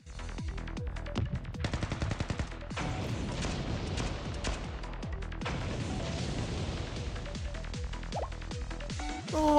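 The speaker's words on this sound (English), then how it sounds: "It sounded like a gunshot." Gunfire in the Blue Archive video game, with dense rapid sharp reports and booms layered over game music, loud and continuous throughout.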